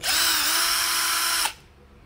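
A Wadfow lithium-ion impact drill whirs loudly at steady speed for about one and a half seconds, then cuts off abruptly and leaves near silence.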